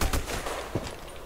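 Gunshots from the Black Squad shooter video game, with a few sharp shots in quick succession, including one distinct crack, over a dense background.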